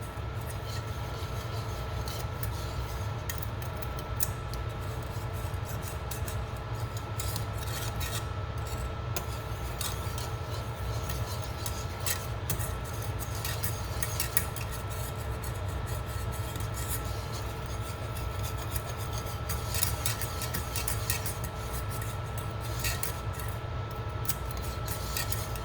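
Homemade yellow mustard with white vinegar whisked in a bowl, a continuous rapid scratchy scraping of the whisk against the bowl, steady and close throughout with no pauses.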